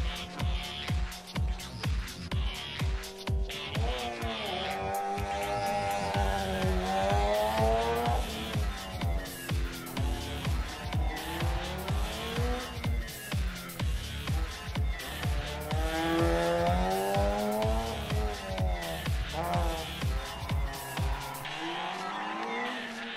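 Modern rally car on the start line of special stage 8 at Champéry, Rallye du Chablais 2022, engine revving hard in rapid pulsing bursts with rising and falling pitch, loud and close, steady throughout before cutting off at the end.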